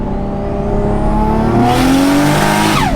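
A Toyota JZX100 engine revs hard and climbs in pitch as it accelerates through second gear, loud and close, with a brief tire chirp partway through.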